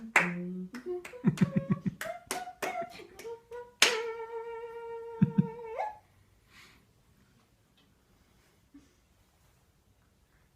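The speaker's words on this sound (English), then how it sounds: "15 seconds while you clap your hands and hum." Sharp hand claps in quick irregular bursts mixed with a person humming a sustained tone close by, followed by near silence for the last few seconds, as part of a dog relaxation exercise.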